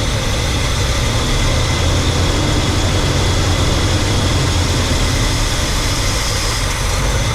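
A 1967 Pontiac Grand Prix convertible engine idles at a raised speed, a steady, loud, close rumble with a constant hum and no talking over it.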